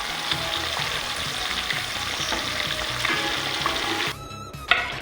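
Kadhi, a yogurt curry with kasuri methi, sizzles and bubbles steadily in a pot on the stove, with occasional stirring, a close continuous frying hiss that briefly quiets near the end.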